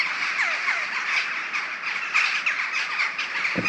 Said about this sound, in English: other than all the bloody birds